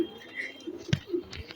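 Tambe copper-coloured pigeons give soft low coos, a few short murmuring calls close by against a quiet background.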